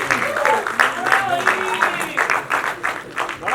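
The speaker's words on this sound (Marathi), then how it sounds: "जोरदार टाळ्या त्यांच्यासाठी." Loud applause from an audience at a Marathi film reunion party for the director on stage, brisk rhythmic clapping close by, alongside voices and music.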